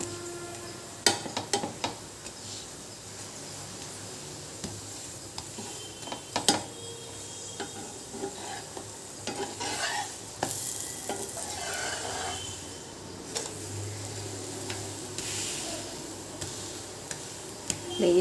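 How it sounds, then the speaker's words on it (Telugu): Stuffed chapati made from dough frying in a pan, with a steady low sizzle running throughout and scattered soft clicks and scrapes of a utensil against the pan. "అవి కూడా మంచిగా ఫ్రై అవుతాయి ఉడుకుతుంది మనకి లోపల"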